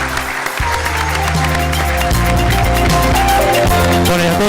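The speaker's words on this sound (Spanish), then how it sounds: "les pedimos un fuerte aplauso porque realmente se lo merece" Applause from the audience at an agricultural round-table session of a summer-crops conference, steady and loud throughout, mixed with a sustained musical or tonal background.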